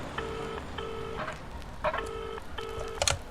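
Telephone dialing in a radio story, a series of short steady electronic tones in groups with brief gaps, fairly quiet over a noisy background, with no talk.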